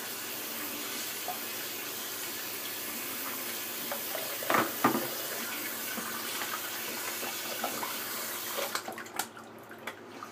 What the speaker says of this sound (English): I'm gonna rinse it off real quick.